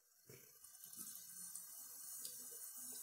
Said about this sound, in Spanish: le voy a echar un poquitín más de agua